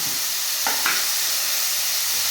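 Tomatoes sauté in a pan for brinjal fry with a bit of salt, a continuous loud sizzle broken by two brief stirring scrapes.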